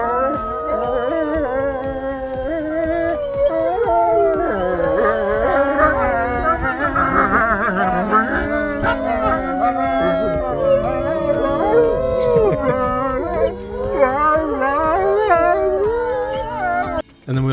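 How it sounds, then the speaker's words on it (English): A pack of wolves breaks into a sustained group howl, many overlapping rising and falling voices blending loudly and close for a long stretch, with a few yips and whimpers mixed in. "we also got to witness a group howl, and you'll see here just how the pack reacted to the howling situation"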